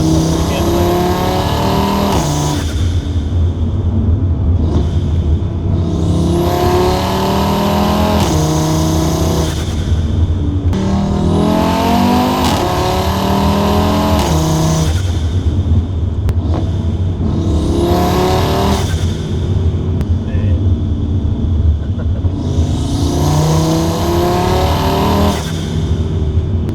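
Car engine revving hard while driving, repeated surges of rising engine pitch through the gears, each climb cut off by a brief drop at the shift, loud and close, with some talk underneath.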